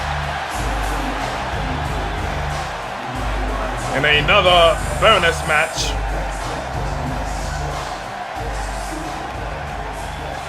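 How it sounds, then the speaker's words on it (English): Crowd at a live NXT wrestling event in Dallas roars steadily in the background under a commentator's talk, with a brief swell of louder whoops and cheers near the middle. "What a great crowd"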